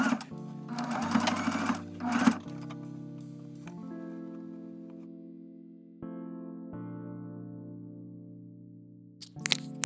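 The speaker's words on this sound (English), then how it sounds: "this is just me sewing exactly where I pinned it" A sewing machine stitches a hem on a thrifted top, opening with a loud rapid mechanical whir and then settling into a steady motor hum that shifts in pitch, ending with another short burst of stitching, close up.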